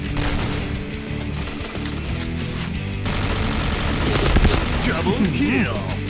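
Rapid, sustained HK-417 rifle fire in the video game Point Blank crackles loud and dense for several seconds, with a heavy blast near the end, over a voice talking.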